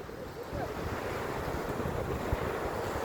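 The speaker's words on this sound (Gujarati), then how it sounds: "આ દરિયાકાંઠો છે" Sea waves washing onto a village seashore near a Shiva temple, a dense continuous roar mixed with wind buffeting the microphone, steady and fairly loud throughout.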